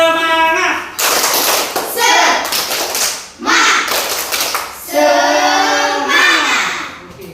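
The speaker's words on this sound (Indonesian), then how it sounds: "Tepuk semangat." Schoolchildren standing in a classroom perform a rhythmic 'tepuk semangat' clapping chant: loud patterned claps and thumps in several bursts, with children's voices chanting along.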